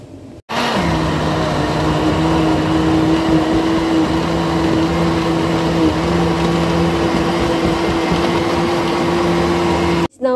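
A kitchen blender runs steadily at high speed, blending coconut with water, a loud continuous motor whir with a steady hum that holds for about ten seconds before stopping.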